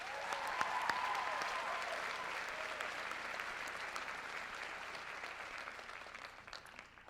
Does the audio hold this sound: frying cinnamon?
no